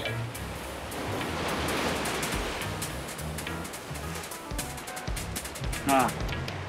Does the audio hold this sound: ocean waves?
yes